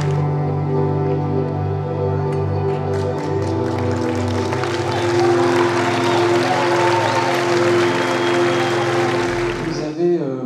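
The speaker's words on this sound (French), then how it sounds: "Vous avez largement applaudi, et fort justement applaudi" A film festival audience applauds after the screening introduction, dense sustained clapping filling the whole stretch over a steady tonal background before stopping abruptly near the end.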